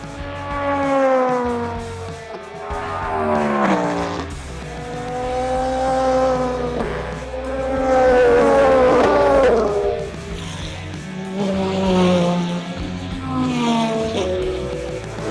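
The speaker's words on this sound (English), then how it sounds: "These hypercars are crazy good." Hypercars race at the Le Mans 24 Hours, their loud, high-revving engines rising and falling in pitch as several cars sweep past one after another, with a steady racing roar and no talk.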